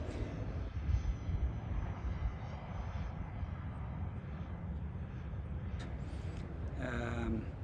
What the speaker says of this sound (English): the plane is flying quite stable.